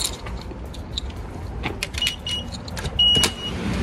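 Car keys jingle and rattle in short bursts inside a parked car, fairly close, with a brief faint squeak and a louder clink near the end, set against steady low cabin and traffic rumble.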